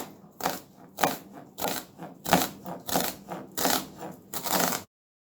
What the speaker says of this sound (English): So I'm gonna cut up this quarter.